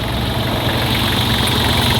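An engine runs steadily at idle, giving a continuous low rumble with mild vibration and no breaks, close by and fairly loud throughout.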